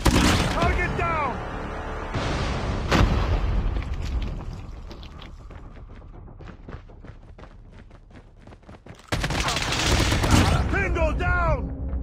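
A Call of Duty mobile match with a grenade going off and bursts of gunfire, sharp loud bangs that come and go over the game's background, while in-game voices call out.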